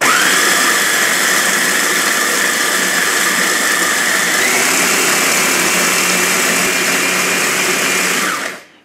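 A 600 W chopper with a stainless steel bowl grinds coffee beans on speed setting 1, a loud, steady motor whir with a dense gritty rattle that runs continuously for about eight seconds before cutting off.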